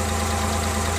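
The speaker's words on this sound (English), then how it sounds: "So, normal yung takbo ng engine natin. Normal yung tunog niya." A Suzuki F6A engine in a Multicab runs normally at a steady idle, with a close, loud, continuous low rumble and no voices.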